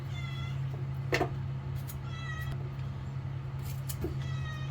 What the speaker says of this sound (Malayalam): കപ്പ മുറിക്കുന്നിടത്ത് പൂച്ചക്കെന്ത് കാര്യം പോടാ